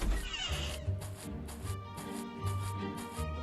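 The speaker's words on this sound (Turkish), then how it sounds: "Kedinin sesi şuradan mı geliyor ya?" Cat meows repeat in Scary Teacher 3D, heard from a hidden spot in a house, several short cries spaced out over a low background hum with no talking.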